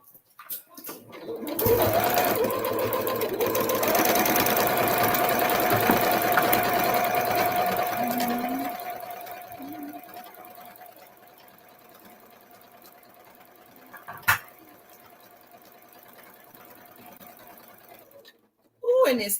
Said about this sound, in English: I don't like when I'm sewing away from me.